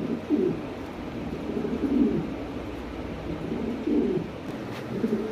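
Jet black pigeons give low, rolling coos in a few bursts, near and moderately loud, with a faint background hum and no talking.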